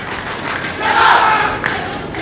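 Spectators at a wushu finals event cheer and shout in a broad, swelling burst of crowd noise that peaks midway, then settles into steady applause-like murmur.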